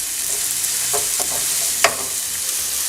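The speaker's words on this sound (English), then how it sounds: "So we just want to saute that for a few minutes." Bean sprouts sautéing in oil in a pan, a soft steady sizzle broken by a few quick scraping stirs and one sharper clatter, close and without talk.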